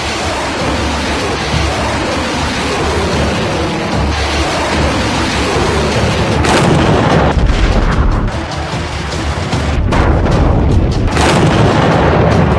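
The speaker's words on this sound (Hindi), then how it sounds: "मिसाइल चला दी है उन्होंने ईस्टर्न पूर्वी थिएटर में" Chinese rocket force missile launch in an eastern theater military display: a loud, sustained roaring blast with deep rumbling booms and surging bursts throughout, steady and powerful with no speech.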